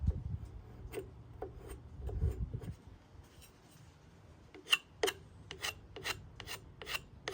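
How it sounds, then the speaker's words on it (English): A blade scrapes the old finish off a wooden antique floor lamp table, with a low rubbing drag at first and then a run of sharp, rhythmic rasping strokes close by. "See, one good scrape and that gets that out."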